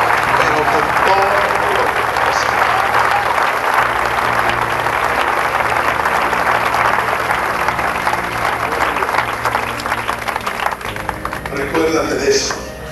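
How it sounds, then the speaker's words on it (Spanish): Sustained applause from a church congregation at an evangelical service, dense and steady throughout, with a voice and background music underneath. "Dale un aplauso al Señor con todo tu corazón."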